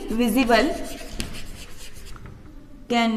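Chalk or marker scratches across a classroom board in short strokes during a chemistry lesson on colloids, faint and intermittent beneath a teacher speaking throughout.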